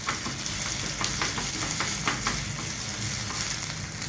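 Urad dal, dried and green chillies and ginger sauté in a pan, giving a constant close sizzle with intermittent soft stirring scrapes and no voices.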